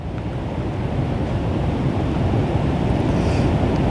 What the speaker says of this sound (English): We've got a little bit of wind just sort of stopping us from settling.